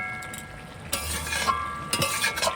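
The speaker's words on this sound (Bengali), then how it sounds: "ডাল আর সবজিটা আমি খুব ভালো করে এভাবে কষিয়ে নেব।" Lentils and winter vegetables are stir-fried in a pan for khichuri, with a soft sizzle and spatula scrapes against the pan that grow busier partway through, close by.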